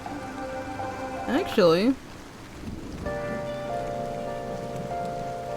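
Steady rain falls in the background beneath a gliding voice and sustained tones, a soft continuous patter with a spoken word over it.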